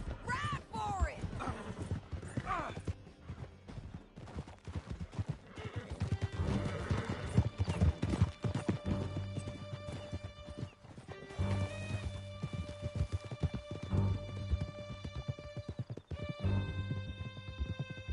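Horses gallop through a canyon during a video game chase, with loud, rapid, steady clip-clop hoofbeats and sharp whinnies throughout, mixed with music and voices.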